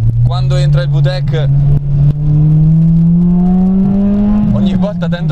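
Honda Integra Type R engine climbing steadily through the revs as VTEC engages, a loud rising drone heard from inside the car, with someone speaking briefly at the start and end.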